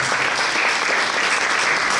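Dense, steady audience applause at a memorial music concert, the clapping filling the whole moment at an even, moderately loud level.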